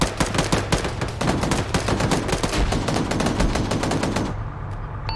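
Rapid sustained automatic gunfire in the infantry video game Arma 3, dense overlapping bursts of shots at close range that continue without pause before cutting off near the end.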